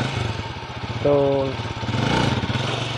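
A motorcycle engine used for one-wheel wheelie practice runs with a steady, low, pulsing chug, and someone speaks briefly over it.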